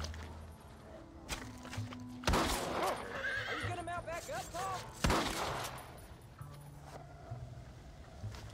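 Horse whinnying in the Western video game Red Dead Redemption, a loud, wavering neigh rising mid-clip amid clip-clop hooves, sharp gunshot cracks and game ambience, with talk over parts of it.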